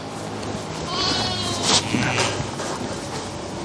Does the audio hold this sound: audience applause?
no